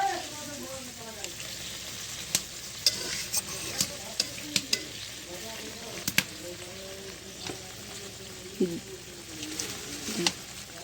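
Ridge gourd and fish simmer in a pan with a little added water, giving a soft continuous bubbling sizzle broken by sharp clacks of the utensil as the mix is stirred, with a voice speaking over it.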